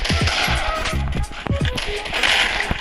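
Rapid gunfire from a mobile shooter game, with bursts of sharp repeated shots and impacts in quick succession, loud and close, with game effects in the mix.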